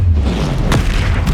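A Confringo spell explodes in Hogwarts Legacy, a loud, dense boom rolling under continuous battle noise with a sharper burst near the middle.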